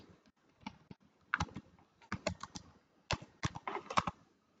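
Computer keyboard typing while entering text into a Canva flipbook design, coming in short irregular bursts of close clicks with brief pauses between them and no talk.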